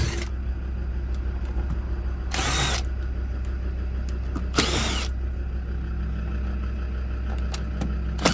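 Two short, loud bursts of a power tool undoing screws on the trim of a Land Rover Discovery 2 during a fuel pump change, set against a steady low background hum with no talk.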